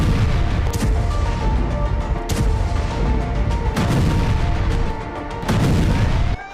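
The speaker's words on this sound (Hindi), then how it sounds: "इस तरह के जोरदार धमाके हो रहे हैं।" A series of loud, sharp booms from shelling in Gaza strike every second or so over a dense rumbling background, with no voices.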